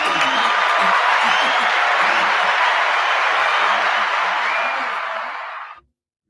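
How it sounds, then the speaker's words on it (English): Studio audience applauding and whooping on a live culture mix show, a thick, steady roar of clapping that holds for several seconds and then fades out abruptly. "Let's give a round of applause for that."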